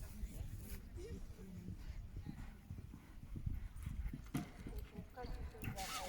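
A horse gallops past on a cross-country course at a horse trials event, rapid thudding hoofbeats heard faintly under lively commentary and crowd noise, with a dog barking somewhere nearby.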